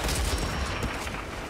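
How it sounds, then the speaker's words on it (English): Heavy gunfire in the shooter game Outriders, a dense, loud burst of overlapping shots and rattling volleys with no pauses, close and continuous for a brief moment. "Who's shooting?"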